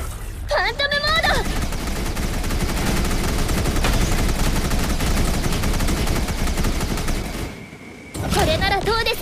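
Volleys of gunfire and explosions pour out as every weapon fires at once in the video game Quantum Maki, a loud continuous barrage between short bursts of a Japanese voice.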